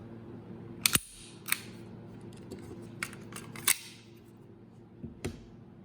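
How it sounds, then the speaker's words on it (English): A Walther P99 pistol is cocked back slightly into its AS mode, giving a few sharp metallic clicks and snaps spread over several seconds against a quiet background, with no speech. "cock it back just a little bit until you see the right indicator, and now the gun is in the AS mode."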